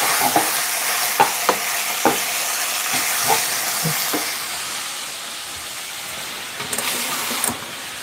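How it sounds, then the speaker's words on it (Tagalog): Food sautés in a hot pan with steady sizzling and frying, broken by repeated clacks of a utensil stirring and scraping against the pan, loud and close with no talk. "So, igisa natin siyang mabuti"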